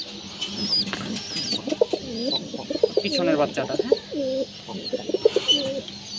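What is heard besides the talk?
pigeons cooing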